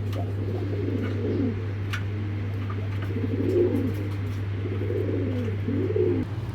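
Racer pigeons coo in soft, rounded repeated phrases close by, with a steady low electrical hum running underneath throughout.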